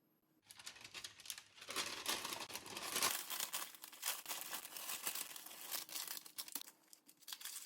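Plastic cling wrap crinkles and rustles in dense bursts while wrapping a lobster thermidor butter mixture of shallots on baking paper, starting after a brief quiet moment and continuing steadily, close and moderately loud, with no talk.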